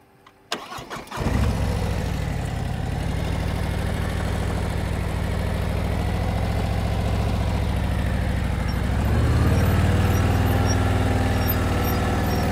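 A motorcycle engine turns over with a few cranking clicks, then starts and runs steadily at a low, close rumble, rising slightly as the clutch is let out during slow-speed riding practice.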